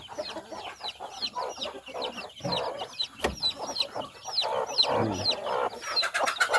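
A hen with newly hatched chicks clucks softly and repeatedly while the chicks keep up a dense chorus of high peeps nearby, with a few faint knocks in the background.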